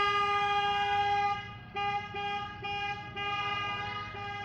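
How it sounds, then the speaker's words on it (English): Vehicle horns honk steadily and loudly at a Mardi Gras parade, sustained multi-tone blasts with brief dips and restarts over a low rumble of traffic, close by and with no talking. "You can hear them honking. Oh, there we go. Oh, it's a Mardi Gras parade."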